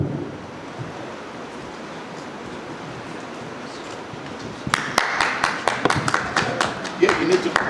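Audience at a boxing press conference breaking into a burst of rapid, scattered clapping midway, after a stretch of quiet room tone and murmuring talk.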